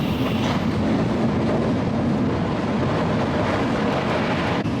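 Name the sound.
bullet train travelling at high speed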